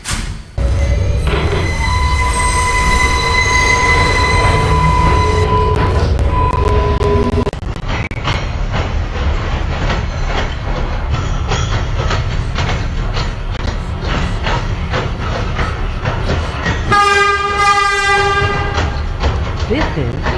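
A Bronx-bound 4 subway train in New York rumbles and clatters steadily along the tracks, with a chiming door tone at the start and a high two-note signal near the end.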